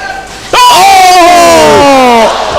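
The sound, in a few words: basketball crowd of kids chanting and cheering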